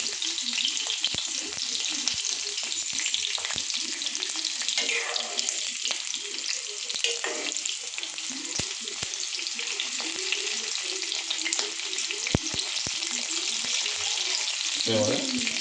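Chillies frying in a pan of oil for dhaba-style egg masala produce a dense, continuous sizzle up close, with intermittent spoon strokes and scrapes against the pan.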